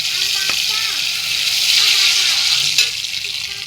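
Hot oil sizzles steadily in a wok ahead of frying rohu fish, a bright continuous hiss with a few small clicks, close and fairly loud, while a voice speaks faintly underneath.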